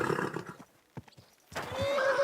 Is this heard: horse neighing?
yes